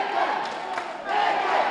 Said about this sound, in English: The whole arena's on their feet for McCormick.